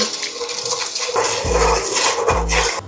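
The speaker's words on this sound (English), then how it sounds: "I'm basically going to be mixing it and let it get brown." Brown sugar being stirred in a cooking pot with a spoon, clanking and scraping as it melts, with a few louder low thumps of the pot or burner and steady kitchen noise throughout.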